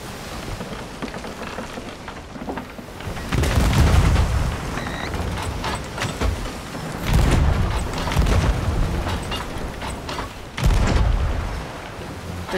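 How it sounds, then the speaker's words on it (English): Ship cannons firing in the video game Sea of Thieves, heavy booming blasts at about three-second intervals with rumbling low-end tails, over a constant background wash of sea and ambient noise. "Okay, now's our best time. Cannons now."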